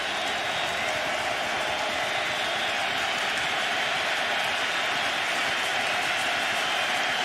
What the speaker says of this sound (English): Deafening crowd here in Western New York.